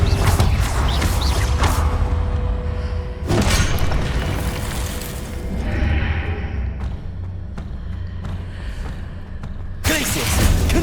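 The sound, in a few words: Confringo fire spell blast in the video game Hogwarts Legacy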